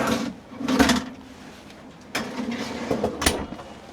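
A drawer fridge in a 2026 Bowlus Endless Highways travel trailer slides open and closes with soft rolling rumbles and a couple of sharp thuds, close by, with no talking.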